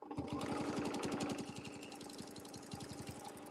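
A sewing machine stitching through a quilt using a curved quilting template, a rapid, steady mechanical chatter of needle strokes that runs fast and then settles into a slightly slower, even rhythm.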